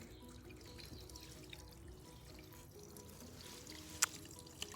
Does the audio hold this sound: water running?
yes